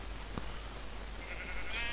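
Sheep bleating in the video game Minecraft, a short bleat rising over a steady noisy background toward the end of the clip, fairly close and alone without talk.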